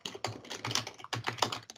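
Computer keyboard typing while composing an email subject and address, a quick run of close clicky keystrokes in irregular bursts, with no talk over it.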